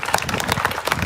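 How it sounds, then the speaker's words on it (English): Crowd outside a church at a Venice Beach community march and mourning gathering claps briefly, a quick scatter of outdoor applause with distinct individual claps. "Let's give them a round of applause."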